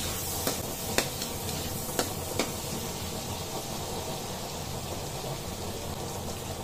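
Chopped tomatoes sauté in a pan with a steady, close hiss of frying and a few sharp clicks of a utensil against the pan near the start. No one speaks.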